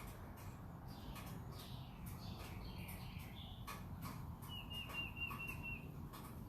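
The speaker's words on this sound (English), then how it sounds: "Let the birds talk, sure." Soft, distant bird chirps and whistled calls trading back and forth outdoors, with a faint steady background hum and no talking.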